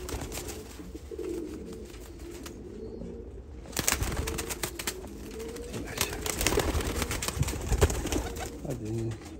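Domestic pigeons coo repeatedly at close range, soft throaty calls over a low continuous background with a little wing flapping, while someone speaks in between.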